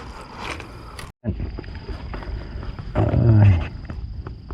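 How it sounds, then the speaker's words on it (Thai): Crows give harsh, raspy caws in a short burst over a quiet outdoor background, fairly close. "เสียงกาก็กาก้ากาดีเหลือเกิน ร้องทั้งวัน"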